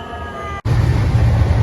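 Steady low rumble of a moving train, with a brief sharp dropout partway through before the loud rolling noise resumes.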